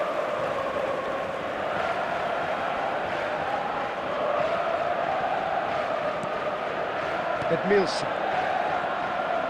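Steady stadium crowd roar from an eFootball match against PSG in Legend Mode, a broad continuous murmur that swells slightly, heard under a commentator's voice naming a player.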